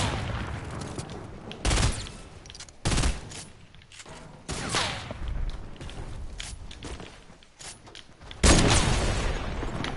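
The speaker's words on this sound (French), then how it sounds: "J'ai fait 30 dommages headshot avec un double barrel" Several heavy shotgun blasts from a double-barrel in a video game, spaced a second or two apart, loud and close with game ambience and footsteps between shots.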